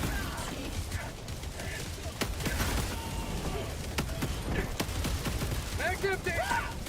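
Rapid bursts of automatic gunfire rattle in Helldivers 2 with mechanical clatter, sharp cracks spiking through a dense battle din while voices talk over the fighting.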